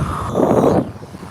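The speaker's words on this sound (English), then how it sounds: "if you can hear it, it's windy" Wind gusts buffet an outdoor microphone, producing a loud, rumbling whoosh that swells and then eases over a little more than a second.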